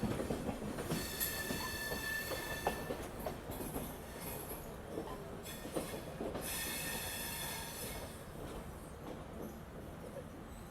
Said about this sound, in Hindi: ये लोकोमोटिव जो है वो आ गया और ये अटैच होगा यहाँ पे